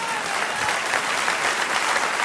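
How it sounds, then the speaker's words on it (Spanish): A church congregation applauds in a brief, dense burst of many hands clapping, loud and even throughout with no voices standing out. "Denle un aplauso al Señor."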